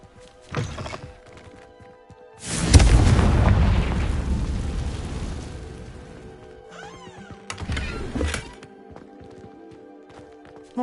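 A Confringo blasting spell goes off in Hogwarts Legacy with one loud, booming burst that rolls off over a few seconds. Shorter, quieter impacts come just before it and again afterward.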